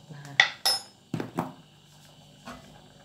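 A utensil scrapes and clinks against a metal pot of coconut-milk curry with noni leaves and fish, a few distinct knocks close by, then quieter rattles, with no talking.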